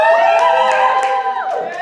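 Improv comedy show audience cheering and applauding, a brief loud burst of whoops and high-pitched shouts over clapping from a crowd.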